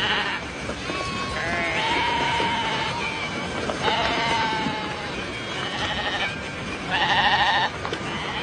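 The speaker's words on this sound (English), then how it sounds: "the silly sheep go in to get their throats cut" A flock of sheep bleating on the way to a slaughterhouse, led by a Judas goat, with many overlapping wavering calls, some near and loud, over a continuous rustling crowd noise.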